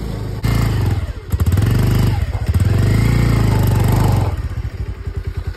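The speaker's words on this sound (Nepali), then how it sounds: "हाम्रो बिचबाट बाइक फसिरहेको छ" A motorcycle struggles along a rough, rutted mountain road in Nepal, its engine loud and close, revving in surges with sputtering pulses at the start and end.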